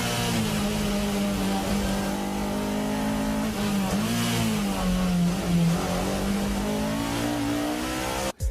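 A Honda S2000 race car laps a circuit, its engine droning loud and steady with rising and falling revs through corners and a brief dip before pulling again, continuous and close throughout.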